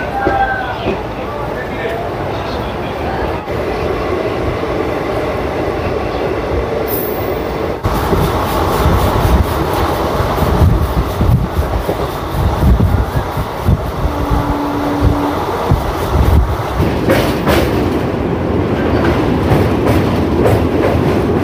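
A Santragachi–Digha summer special train pulls away from Uluberia station, a loud, continuous rumble with steady wheel clatter throughout and a brief squeal partway through.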